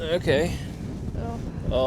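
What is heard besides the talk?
strong wind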